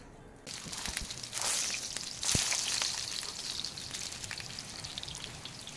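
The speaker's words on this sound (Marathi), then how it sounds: "आता आपण वड्या फ्राय करून घेणार आहोत वडा फ्राय करण्यासाठी आपण एका पॅनमध्ये तेल टाकून घेतलेलं आहे" Spinach and lentil vadi shallow-frying in an oiled pan with poppy seeds, a steady close sizzle with bursts of louder crackling near the start.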